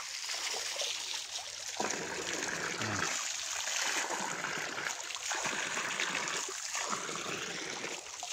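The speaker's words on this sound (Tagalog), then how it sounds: "Ilog. Galing to doon sa taas eh." Flowing river water running down from higher ground in the Philippines, a continuous rushing and trickling wash with splashes, close and steady throughout.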